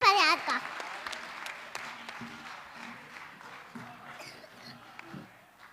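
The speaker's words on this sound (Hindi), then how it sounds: "जोरदार तालियों से स्वागत करें नैन्सी परिहार का" An audience at a children's poetry gathering in Ayodhya claps to welcome a young poet, loud applause at the start that thins and fades over a few seconds, with a voice speaking over it.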